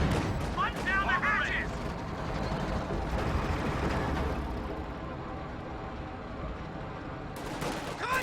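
Artillery indirect fire rumbles through a Company of Heroes 2 battle, a dense wash of booms and gunfire rolling continuously with a few sharper blasts at the start and end, while a voice talks over it.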